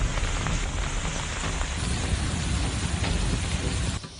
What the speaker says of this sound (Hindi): तूफान के आने से पहले मुंबई के कई इलाकों में बारिश हो रही है।